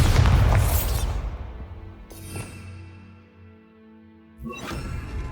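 A Bombarda spell blast in Hogwarts Legacy: a loud booming explosion at the start, then a fading rumble, a smaller burst midway and another sharp blast near the end.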